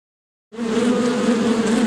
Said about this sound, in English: As you can hear the sound of the bees.